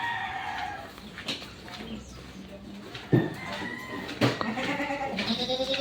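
Several Boer goats bleat in short, nasal calls at varied distances on a farm in Agoncillo, Batangas, with a rooster crowing and other farmyard noise mixed in.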